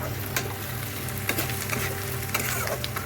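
Whole cumin and coriander seeds sizzle in hot oil, a steady close crackle with scattered sharp pops and light stirring scrapes throughout, no voices.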